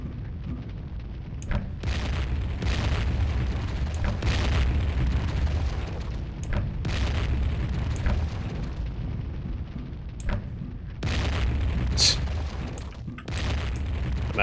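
Grenade launcher explosions in the game Warhammer 40k: Fire Warrior, a series of muffled booms and pops spread over a steady rumbling bed of game sound.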